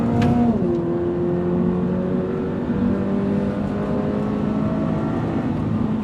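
A 2025 Toyota GR86 automatic sports car engine revs and then settles, its pitch dropping after a brief high whine into a steady, loud droning hum with clear harmonic tones that runs throughout.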